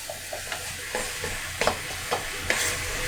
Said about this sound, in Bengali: লাল মরিচের গুঁড়িটা দেওয়ার পরে আমি এই গুঁড়া মশলাগুলোকে সবজি এবং অন্যান্য উপাদানের সাথে ভালোভাবে মিশিয়ে নেড়ে চেড়ে দেব